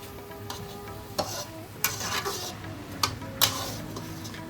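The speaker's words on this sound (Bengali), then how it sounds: "হালকা হাতে নাড়াচাড়া করে দিচ্ছি" Kolmi shak pithali cooking in a pan, gently stirred: a low continuous simmer with a few soft scraping strokes and spoon clinks spaced about a second apart, close by and without speech.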